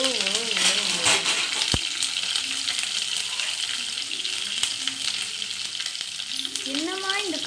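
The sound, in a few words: mustard seeds spluttering in hot oil with garlic, onion, curry leaves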